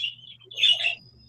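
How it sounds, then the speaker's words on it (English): Birds chirp and squawk close by in a short burst of calls, set against a quiet room with a faint low hum underneath. "except for the birds."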